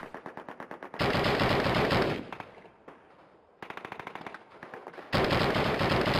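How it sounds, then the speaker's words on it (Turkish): Automatic gunfire in Call of Duty 1, rapid loud bursts of machine-gun shots in several sharp volleys, separated by quieter gaps and a softer stretch of distant shooting. "Komutan bir yere sıkıyor ama"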